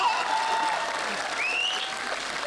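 An audience at a Hindi poetry recital in a court setting breaks into steady, full applause, with a few shrill whistles rising above the clapping.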